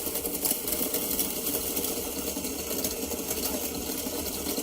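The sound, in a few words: motor running powerfully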